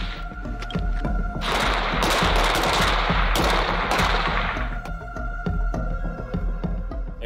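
A G36 rifle fires in rapid bursts, a dense clatter of close, loud automatic shots lasting a few seconds, set amid lighter single reports and mechanical clanks, with no speech.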